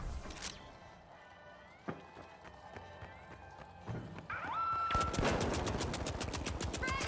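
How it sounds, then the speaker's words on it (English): Gunfire through walls in The Finals, a steady stream of rapid, evenly spaced shots that grows louder and denser toward the end, mixed with game effects and tonal beeps. "Oh my god, I'm getting shot through walls."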